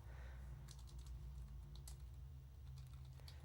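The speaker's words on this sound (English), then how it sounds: "So why am I typing to you?" Someone types on a computer keyboard while playing the online game Myst Online, with a few scattered clicks and short bursts of keystrokes over a steady low hum.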